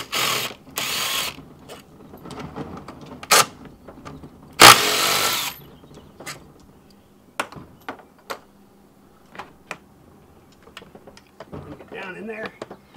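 Ford Mustang throttle body bolts come loose under a ratchet: a couple of long rasping ratchet runs and sharp clicks, then scattered lighter clicks and taps from the work on the engine.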